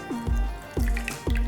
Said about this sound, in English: And the juice we're gonna add to the couscous as well.